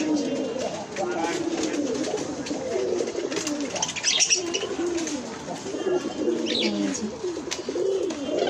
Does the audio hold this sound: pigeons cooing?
yes